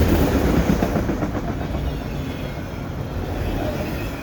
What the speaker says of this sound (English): 2 trains within about 15 minutes of each other, heading both east on CP.